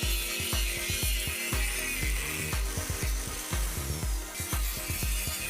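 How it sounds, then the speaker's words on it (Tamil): A grinding wheel works over a rusty metal chicken cage, giving a constant harsh high hiss over rapid, regular low thumps, close and unbroken. "நல்லா கிரனிங் வீல் யூஸ் பண்ணி தேய்ச்சிக்கிறேன்"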